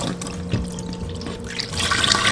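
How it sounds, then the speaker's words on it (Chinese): Three salted duck eggs are rinsed under running water, giving a continuous close splash and trickle with scattered drips that grow brighter and busier toward the end. "清洗3个咸鸭蛋"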